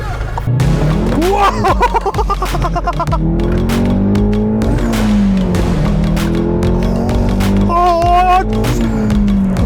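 Close, loud engine drone from a Volkswagen Golf 7R Stage 2 with manual gearbox on a test drive, pitch climbing and falling through several gear changes, with rising tonal sweeps and a whistle near the end.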